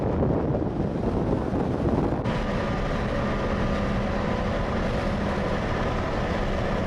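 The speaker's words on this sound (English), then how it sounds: "it's a windy day" Strong wind on Prince Edward Island buffets the microphone with loud, constant roaring gusts that ease slightly partway through, with no voices.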